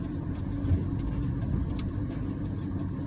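A SEAdrive 120a electric moving truck drives slowly on plowed, snowy streets, giving a steady low rumble of tires and road noise with a faint hum and no distinct engine revving.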